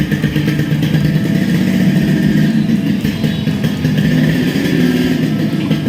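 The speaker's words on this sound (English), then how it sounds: "So I'll just move the bike." A Yamaha RX100 motorcycle runs steadily with a continuous mid-pitched engine drone, loud and close as the bike is moved, with no speech over it.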